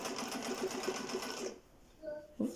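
A Husqvarna Viking 3020 sewing machine stitches through six layers of leather, running fast with an even rapid stitching rhythm for about a second and a half, then stops, leaving a few faint clicks.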